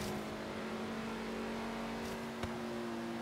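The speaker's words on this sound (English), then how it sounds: "Ford GT40 gets a little wide, tightens it up. Ford Focus is obviously understeering because all-wheel drive and it's a tiny car." A Ford GT40 and a Ford Focus RS racing in Forza Horizon 3, a steady engine drone with a sustained tonal hum and a brief whoosh near the end, heard alone without talk.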